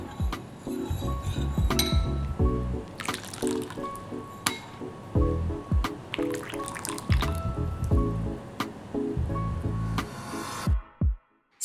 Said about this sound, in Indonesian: Lalu kita aduk kopinya hingga rata, kemudian kita sisihkan hingga dingin.